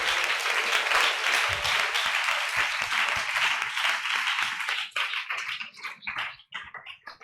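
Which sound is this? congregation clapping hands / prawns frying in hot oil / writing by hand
congregation clapping hands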